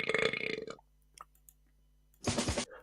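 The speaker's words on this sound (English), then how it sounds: "I'm pretty sure that burp was added in." A loud, drawn-out burp sound effect added to a film trailer, heard twice as separate bursts with a near-silent gap between them and a few faint clicks in the pause.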